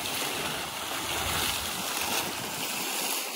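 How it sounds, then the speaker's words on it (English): A waterfall roars as a steady, dense broadband rush of falling water, loud and continuous for the whole stretch with no voices. "It's very relaxing, but this is a waterfall."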